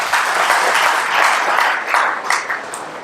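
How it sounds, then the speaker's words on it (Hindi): An audience at a Hindi talk on positive thinking applauding together, a loud, dense burst of clapping that swells and fades over about three seconds. "अपने लिए एक बार ताली बजा लीजिए।"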